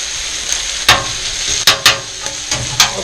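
Hash browns frying in a hot pan, a steady bright sizzle broken by several sharp scraping clicks of a utensil turning them, close and loud.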